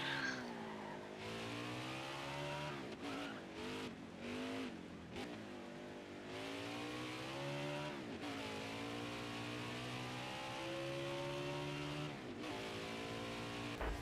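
Race car engine in NASCAR Heat 5 video game, a loud continuous roar with rising and falling pitch as the car revs, downshifts and brakes, with brief gaps and tire skids mixed in.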